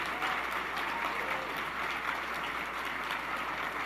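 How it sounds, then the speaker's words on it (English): Applause in a hall for Liberal MPs standing up during a speech: a steady, moderately distant wash of many hands clapping, even and unbroken from start to finish. "please stand up so we can give you a round of applause"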